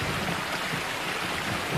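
Steady rain falls continuously, a dense broadband hiss of drops on surfaces, close and even throughout, with no voices.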